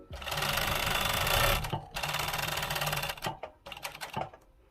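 A sewing machine stitches a zipper pocket onto a zip-up jacket in loud, rapid bursts of needle clatter, a long run followed by a brief pause, another run, then short stop-start stitches as the fabric is turned.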